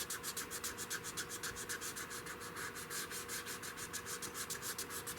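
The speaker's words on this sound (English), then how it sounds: "you got to sort of sand with the grain on projects like this" A 16 gauge European shotgun is hand sanded with the grain, a faint, close, rhythmic rasp of quick back-and-forth strokes repeating steadily throughout with no voices.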